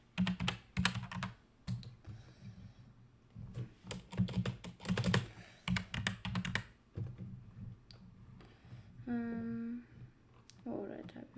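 Rapid bursts of computer keyboard typing, clattering in quick uneven runs near the listener while a person talks over parts of it.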